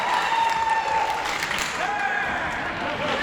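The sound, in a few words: wrestling crowd cheering and applauding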